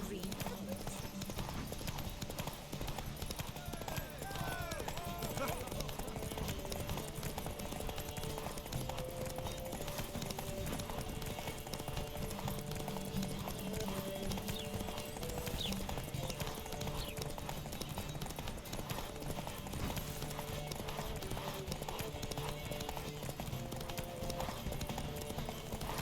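Roach the horse gallops across terrain in The Witcher 3, a continuous rapid clip-clop of hooves running throughout with occasional snorts, under a layer of game music and ambience.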